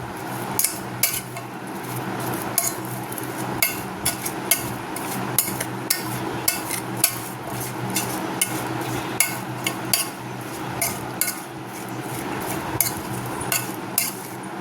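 Onions with a spoonful of salt, chili powder and turmeric mixed by hand in a bowl for piyaji, with repeated clinks and scrapes from a spoon against the bowl in an uneven rhythm, close and fairly loud, with no talking.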